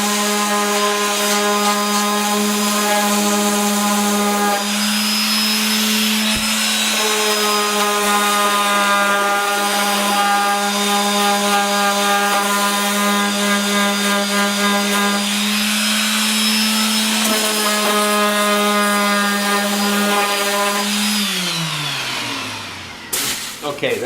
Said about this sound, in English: the orbital sander.